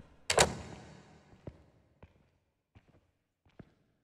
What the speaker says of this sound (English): This door just freaking closed